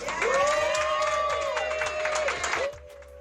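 A crowd applauds and cheers at an outdoor honor ceremony for a Motown singer, brisk clapping and shouts over music that end abruptly.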